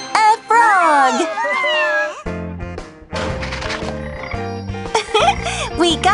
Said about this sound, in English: The answer is a frog!